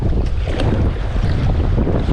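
Strong sea wind off Koh Nok, Thailand buffets and roars across the microphone, a continuous loud rush with a low rumble like open water beneath it.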